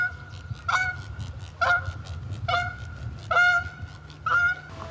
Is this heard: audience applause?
no